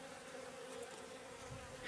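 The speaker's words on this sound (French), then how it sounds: "Les abeilles s'agitent, mais dès que la ruche est refermée, le calme revient" Agitated honeybees swarm around an opened hive, producing a dense, continuous buzzing drone that stays close and steady without pause.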